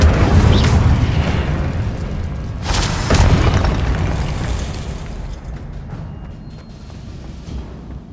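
Incendio fire spell in the Hogwarts Legacy video game bursts in heavy, rumbling booms, with a sharp flare near the start and another around three seconds, then a fading fiery roar.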